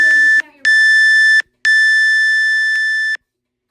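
Electronic workout interval timer during a bodyweight circuit, sounding three loud, steady, high-pitched beeps: two short ones separated by brief gaps, then a longer held tone, with a faint voice underneath at the start.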